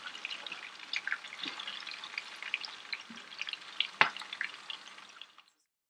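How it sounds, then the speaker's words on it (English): Burgers fry in a pan while being basted with butter, a close, steady crackling sizzle with small pops and one sharper clink near the end before the sound cuts to silence. "I'm going to tilt my pan, pick up some butter, and just sort of baste it over top of these burgers"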